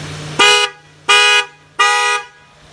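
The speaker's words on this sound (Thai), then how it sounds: "เสียงดังลั่นนะครับผมแต่เฮลล่านะครับ" Hella car horn fitted to a Mitsubishi Xpander, three loud, close honks of about a third of a second each, evenly spaced, with a faint low hum between them.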